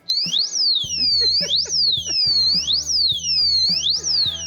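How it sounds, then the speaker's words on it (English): A scooter's alarm disc lock wails loudly close by, its pitch sweeping up and down in rapid repeated cycles over pulsing low beeps. "Here's an alarm disc lock."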